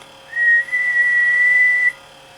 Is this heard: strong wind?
no